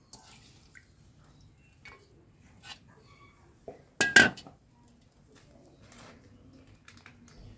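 Chopped onion goes into a pan of goat meat cooking over a wood fire, one sharp clattering burst standing out mid-way through an otherwise quiet stretch with faint background clinks.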